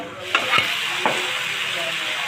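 Hilsa curry being fried and stirred in a pan, with a steady oil sizzle and a few sharp scrapes of a spatula close by.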